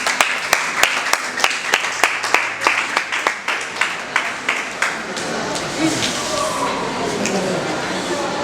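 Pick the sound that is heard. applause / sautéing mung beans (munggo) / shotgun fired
applause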